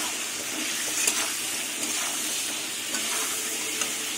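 Pointed gourd sautéing with ginger, turmeric and chili powder in a pan, a steady close sizzle and frying crackle with light stirring scrapes, no talk.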